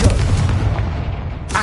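A Confringo blasting spell in Hogwarts Legacy goes off as a single loud, booming explosion that rumbles for over a second before a short sharp burst at the end.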